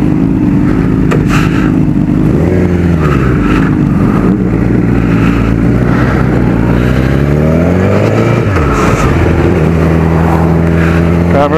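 A Blade motorcycle being ridden, its engine loud and close, revving up and down through several rising and falling pitch sweeps with no talk over it.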